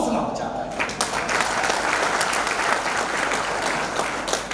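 An audience at a comic poetry gathering claps steadily and densely for several seconds, a full sustained round of applause close to the microphone.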